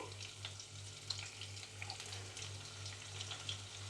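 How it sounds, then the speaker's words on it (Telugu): Mustard and cumin seeds crackling in hot oil, with a dense continuous sizzle and scattered small pops over a low steady hum, fairly faint and close. "ఆయిల్ కొద్దిగా ఎక్కిన తర్వాత మనం ఇందులో జీలకర్ర ఆవాలు వేసుకోవాలి ఇవి కొద్దిగా ఆడినిద్దాం"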